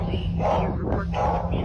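A dog barks aggressively inside a house, giving two rough barks about a second apart over a steady low background hum.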